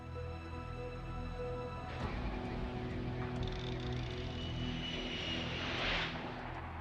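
A reconnaissance airplane's engine drones steadily in the background, its pitch and hiss swelling slightly as it passes, with no one talking.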